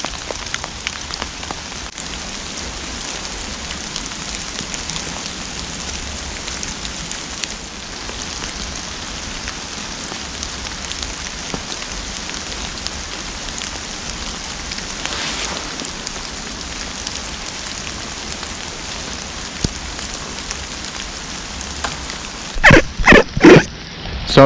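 Heavy rain patters steadily on a tarp at a camp, a dense, continuous hiss of drops close overhead, with a few louder thumps near the end.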